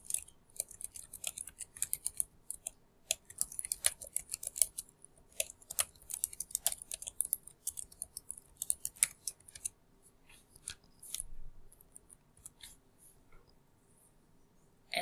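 Quick, irregular clicking of keys on a computer keyboard as a comment is typed, close and fairly quiet, with short bursts and pauses and no talking.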